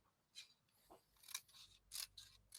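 Scissors snip through a reflective screen print transfer, several crisp close cuts in an uneven rhythm, with quiet handling noise between them.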